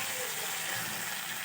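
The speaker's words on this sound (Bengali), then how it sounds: "আমার মাছ কিন্তু মোটামুটি ভাজা হয়ে গেছে" Kan fish frying in hot oil in a half-covered pan, a steady dense sizzle and crackle that holds evenly throughout at moderate loudness.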